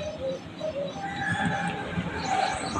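A female pigeon coos softly in short, repeated calls, faint and close, over a quiet background hum.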